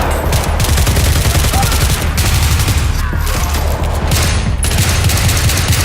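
Battlefield 3 Armored Kill gunfire in Gunmaster mode: dense, continuous rapid shots with heavy low-end booms, loud and relentless throughout, layered like a battlefield fusillade.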